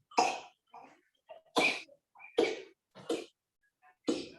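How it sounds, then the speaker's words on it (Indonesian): Someone in a meeting room coughs several times in short separate bursts, fairly close and clear, with quiet gaps between them. "ada yang batuk-batuk nih"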